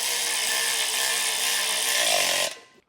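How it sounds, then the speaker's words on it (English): A power tool with a 1/2 inch socket tightens trailer hitch bolts under a 2023 Chevrolet pickup bed, a steady loud whirring run of about two and a half seconds that cuts off abruptly, with no talking. "it's going to be a 1/2 inch socket to get these tightened down"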